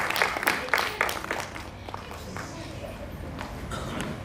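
Applause from the audience at a Hindi poetry book launch, a burst of clapping in the first couple of seconds that fades into a low murmur of the room.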